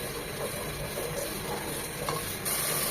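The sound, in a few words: spices being stir-fried in a pan for beef korma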